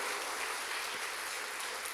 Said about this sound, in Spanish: les reconocemos con un aplauso cariñoso